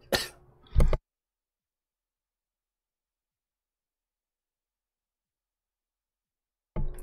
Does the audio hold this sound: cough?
yes